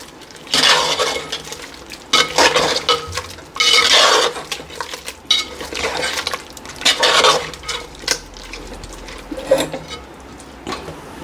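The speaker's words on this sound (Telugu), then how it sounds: "ఇప్పుడు మొత్తం కలుపుకుందాం" Ground masala being stirred into chicken in a clay pot, a ladle scraping and clinking against the pot in irregular bursts, close and fairly loud, with short pauses between strokes.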